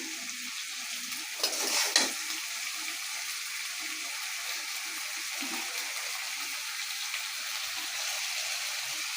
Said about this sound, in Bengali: একটু আদা রসুনটা একটু ভাজা ভাজা করে আমি মশলা ছাড়বো